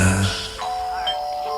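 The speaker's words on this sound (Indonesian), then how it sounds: "terdengar suara bel. Iya, di mes ini ada bel rumah yang terletak di depan gerbang." A house doorbell at a front gate rings with a clear ding-dong chime, loud at first and then fading into a sustained ringing tone.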